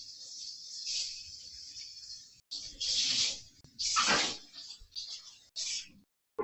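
Running water splashes over hands being rinsed after cold process soap making with clay colorants, in several uneven bursts of splashing separated by brief pauses, close and fairly loud.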